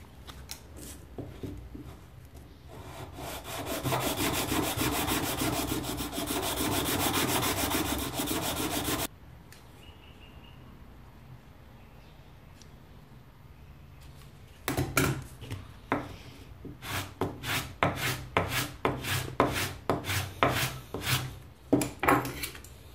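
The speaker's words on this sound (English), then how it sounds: "I'm going to be kissing the top of it with some sandpaper as well as the other piece I'm going to glue in, but I'm going to start that tapering process now" Sandpaper rubbing back and forth on a wooden bass guitar neck shim to taper it, first a long steady rasp, then a quiet pause, then quicker rhythmic strokes, close up and with no talk.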